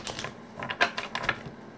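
Tarot cards being shuffled, a quick run of light papery riffling clicks and flicks over about two seconds, close and fairly soft, with no talking.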